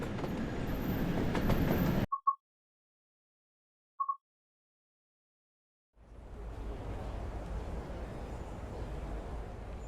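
An LMS Stanier Class 8F steam locomotive in BR black livery runs in Train Sim World, a loud rushing rumble that cuts to silence with a few brief clicks, then resumes steadily.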